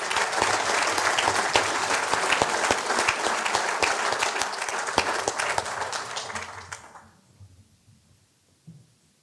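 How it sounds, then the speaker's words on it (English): An audience at a safety council awards meeting gives a sustained round of applause for award recipients, dense and crisp for about seven seconds before fading quickly into near silence. "Please join me in giving a round of applause to all the recipients."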